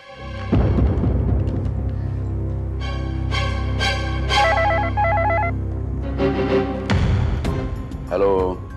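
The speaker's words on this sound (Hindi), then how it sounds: "मैं अभी गजेंद्र से बात करती हूँ फोन पर और उसे बुलाती हूँ यहाँ।" An electronic telephone ringtone in a classic Indian television drama, bright melodic trills starting and stopping in several bursts over a low sustained music bed.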